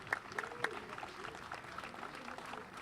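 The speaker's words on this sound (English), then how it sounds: "Give yourselves a big round of applause" Audience clapping after a municipal band concert in an outdoor park, a moderate, steady patter of many hands with a few sharper claps early on, heard from a middle distance.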